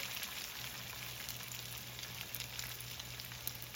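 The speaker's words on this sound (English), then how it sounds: "drop that right into my oil" Zucchini tots fry in oil with a faint, even, continuous crackling hiss. A low steady hum sits underneath throughout.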